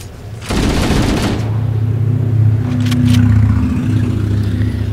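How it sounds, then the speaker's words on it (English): A loud car engine idles and revs in the background, a steady low drone throughout, beneath a burst of dense rapid gunfire from a Halo: Combat Evolved match at the start and a few faint clicks later. "Loud-ass car in the background."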